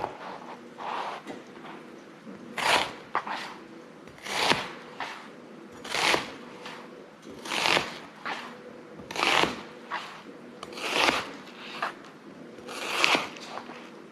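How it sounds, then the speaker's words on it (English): A knife cuts through an onion in a kitchen, making a string of crisp, rhythmic chopping and crunching strokes at close range, with light handling noise between cuts. "Let's go here, cut this onion"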